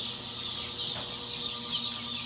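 Baby chicks, barred rock and silver laced Wyandotte, peep in a continuous high-pitched chorus of overlapping chirps, fairly faint and steady with no talking.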